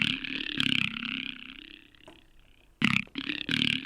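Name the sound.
drone through Ableton Auto Filter vowel shape with LFO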